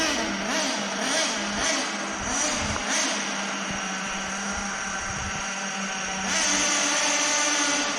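A HoBao Hyper VS2 nitro RC car with a v19 engine revving inside a factory, a continuous high buzzing whine that rises and falls in quick pulses, then holds steadier and louder near the end.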